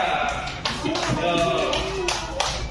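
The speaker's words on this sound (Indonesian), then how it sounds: "beri tepuk tangannya untuk kelompok 3" Classroom students applaud a presenting group, a short burst of scattered clapping and taps mixed with voices talking over it.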